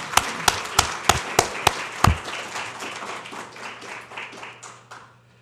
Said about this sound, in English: please join me in giving them a round of applause for their help